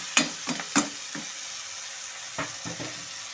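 Nigella seeds and two dried red chilies tempering in hot oil: a few sharp, close crackles and pops in a short cluster, a pause, then a second burst, with no voices.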